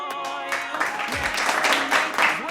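Church event audience applauding a DJ, a steady wash of clapping that swells over fading musical tones and stays fairly loud through the short stretch.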